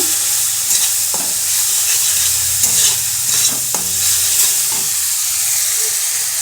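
Garlic paste fries in a pan with a loud, continuous sizzle while a spatula stirs it, scraping sharply against the metal a few times, with no voices.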